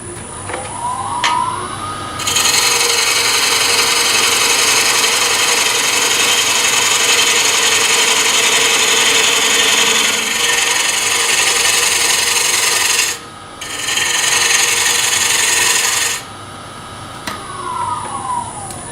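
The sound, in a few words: bowl gouge turning wood on a lathe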